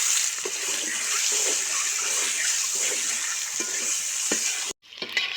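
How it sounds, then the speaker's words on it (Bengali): Duck eggs fry in a hot pan with a steady, close sizzle and occasional stirring scrapes, cutting off briefly near the end before the crackle resumes. "ডিমগুলো সুন্দর করে বাজিয়ে নিচ্ছি"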